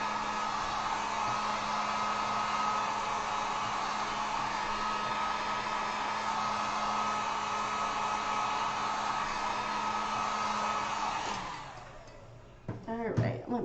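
Heat gun or blow dryer on a low setting drying acrylic paint on a wooden sign, a loud steady whooshing hum for about eleven seconds that then shuts off, leaving brief faint handling noises.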